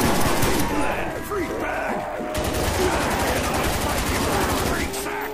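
Single-fire gunshots from the zombies map Shi No Numa in Call of Duty, cracking loudly in a steady stream of separate shots over dense game noise.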